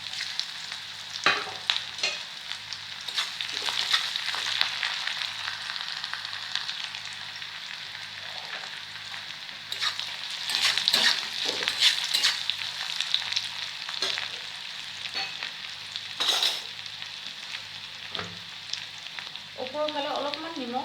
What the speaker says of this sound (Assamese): পিয়াজ 3টা মান কাট কৰি লৈছো ইয়াত দি দিম এইখিনি মই ফ্ৰাই কৰি লম